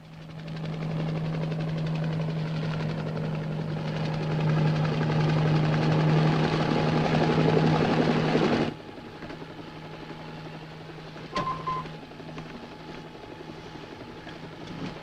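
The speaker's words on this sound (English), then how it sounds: "See if we can get Willis in a helicopter." Steady rotor drone of a helicopter in a 1956 Alfred Hitchcock Presents episode, loud and close for several seconds, then dropping to a fainter, more distant hum with a brief clank.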